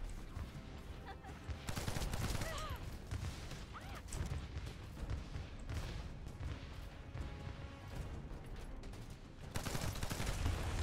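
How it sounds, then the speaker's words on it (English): Rapid gunfire and blasts from a boss fight in the video game The First Descendant, a dense, continuous barrage of shots mixed with explosions, loud and sustained throughout. "Shoot him, shoot him, shoot, shoot, shoot."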